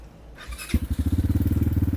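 A motorcycle engine cranks and catches, settling into a loud, steady, chugging idle close by, its pulses evenly spaced and thumping.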